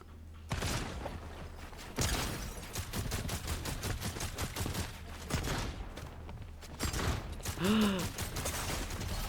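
Gunfire in a shooting video game, rapid bursts of automatic fire coming in waves from mid-distance, with a brief vocal sound near the end.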